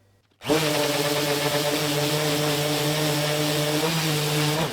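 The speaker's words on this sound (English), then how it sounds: "Right, so I've done the sanding, just rough sand, 60 grit." A power sander starts up and runs steadily and loudly on wood with 60-grit paper, a continuous whirring buzz with a slight pitch dip near the end.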